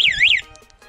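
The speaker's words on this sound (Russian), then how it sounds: "Это звуковой сигнал." A parental-control key fob on a Mowgli Sharp quad bike emits a short, loud warbling electronic siren tone, rising and falling for under half a second before cutting off.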